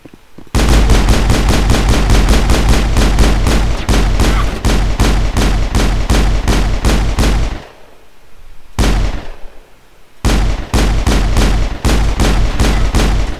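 Rapid automatic gunfire from the Mass Effect video game rattles loud and steady in long bursts, pausing twice briefly before the shooting resumes.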